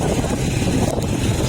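Helicopter flying overhead on a hiking trail, a steady broadband rotor and engine drone with wind noise, moderately loud and continuous throughout the brief stretch.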